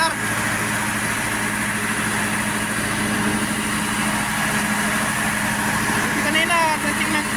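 A small engine, one that would not start when low on oil, runs steadily at a constant drone once oil is added, close and loud, with a faint voice briefly heard near the end.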